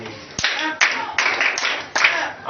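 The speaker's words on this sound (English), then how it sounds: "Clap for me." Five sharp, evenly spaced group claps ring out in a science classroom, each a crisp loud burst with brief gaps between.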